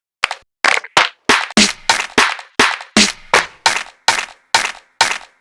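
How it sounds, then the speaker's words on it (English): A wide clap drum sample for a house track, struck alone in a steady, evenly spaced sequence of about a dozen crisp, bright hits, each with a short airy tail, loud and close with silence between. "That sounds like a wide clap to me."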